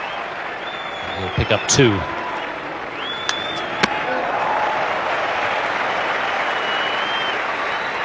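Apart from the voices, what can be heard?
cricket crowd applauding fielding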